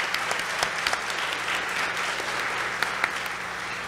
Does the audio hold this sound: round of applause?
yes